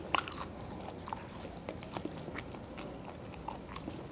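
Biting and chewing a fish cake bar (hot bar) from a convenience store, with a sharp crunchy bite at the start followed by soft, steady close-up mastication noises, no talking.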